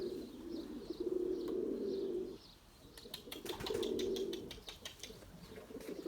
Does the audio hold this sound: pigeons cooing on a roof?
yes